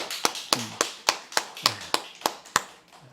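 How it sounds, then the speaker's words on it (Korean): A church congregation clapping during a Sunday afternoon worship service, about ten sharp, evenly spaced claps in a steady rhythm, close and clear with no talking over them. "우리 오늘 하나님께 영광의 박수를 냅시다."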